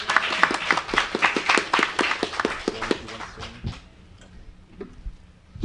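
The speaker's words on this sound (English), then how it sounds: "Applause!" A debate audience claps in sparse, distinct strokes, the individual claps fading out after a few seconds, leaving near-quiet.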